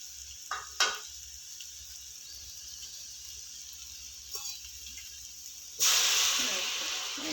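A few soft clicks and scrapes in a quiet kitchen, then a sudden loud sizzle as masala hits a hot pan and keeps hissing while sautéing for parotta salna.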